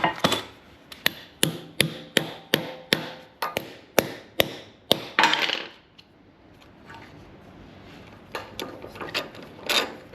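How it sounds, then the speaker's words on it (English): A hammer taps an anchor bolt into a concrete hole for a two-post car lift, about a dozen sharp, evenly spaced metallic strikes, then a pause and a couple more hits. "Get you a hammer, tap it in."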